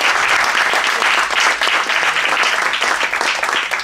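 A conference audience gives a panel on climate change a steady round of applause, dense clapping from a full room sustained throughout at strong volume.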